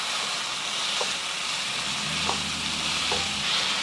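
Lean ground beef, about 1.5 pounds, sizzles steadily in a hot pan, a dense close hiss throughout with a few faint scrapes of stirring; no one speaks.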